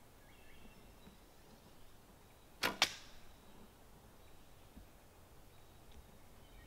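An arrow released from a traditional recurve bow strikes a down stump about five yards away outdoors, giving a sharp double snap and thud that stands alone against quiet ambient background.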